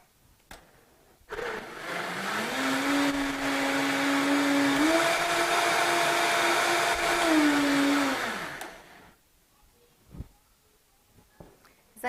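A Vitamix blender whirs loudly for about seven seconds in a vegetarian cooking demonstration, its motor pitch rising briefly mid-run before winding down, followed by a few faint clicks and knocks in near silence.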